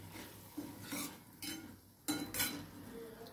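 Cooked peas being stirred in a pan, a few soft scrapes and light clinks of a spoon against metal, quiet and close, with no voices.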